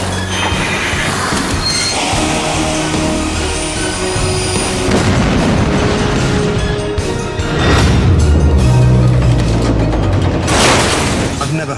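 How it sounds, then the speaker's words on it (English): Two crowded rush-hour commuter trains collide near Paddington Station in London, producing a loud, sustained roar of booming impacts and grinding metal that swells in two waves, with voices partly beneath it. "I've never heard anything like it, just a huge bang."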